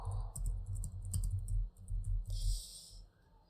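A comment being typed on a computer keyboard: quick, close clicking keystrokes in short bursts, fairly quiet, with a brief lull near the end.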